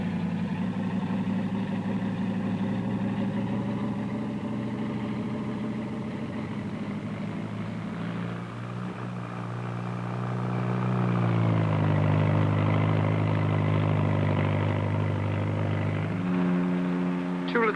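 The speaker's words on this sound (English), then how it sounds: "The Bristol 192, shown here landing, and as it lands, one engine is blanked off." A Bristol 192 twin-rotor helicopter lands at the 1958 Farnborough air show on one engine, the other blanked off, its loud, steady engine and rotor drone running throughout with a shift in pitch partway through.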